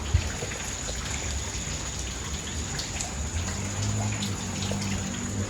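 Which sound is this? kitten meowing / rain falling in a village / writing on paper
rain falling in a village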